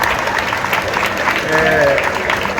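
Crowd applause in honour of the late footballer Dinamite of Vasco, a dense, continuous wash of clapping at steady loudness with voices mixed in.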